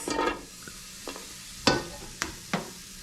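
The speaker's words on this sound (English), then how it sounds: "let's go ahead and saute some onions" Onions sautéing in a pan for Cassareep fish banga, a faint sizzle broken by a few sharp scrapes and stirs of a utensil against the pan, spaced irregularly with quiet gaps between.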